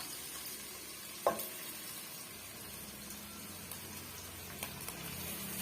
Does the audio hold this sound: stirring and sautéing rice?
yes